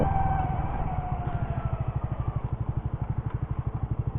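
A Suzuki GSX-R150 motorcycle engine pulls hard toward high RPM while riding, a loud steady buzzing drone with rapid even pulses and no talk.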